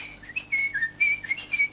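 A person whistles a short melodic phrase of several clear sliding notes, sharp and close, with brief gaps between the notes and a quiet hum underneath.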